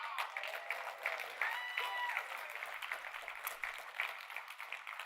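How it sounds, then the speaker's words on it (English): An audience claps at an AMD product launch presentation for RDNA 3 graphics cards, a dense wash of applause heard faint and distant throughout, with a few crowd voices mixed in. "See, everybody's clapping because of this as if it's some big deal"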